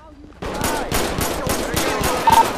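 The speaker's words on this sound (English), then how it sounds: "Shots fired. Shots fired." Rapid automatic gunfire in the GTA V LSPDFR police game crackles in a fast, evenly spaced burst of loud shots that starts abruptly and runs without pause.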